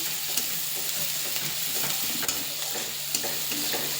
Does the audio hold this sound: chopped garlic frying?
yes